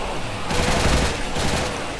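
Rapid gunfire from the video game Call of DooM, a loud burst of shots running steadily for about two seconds with no talk over it.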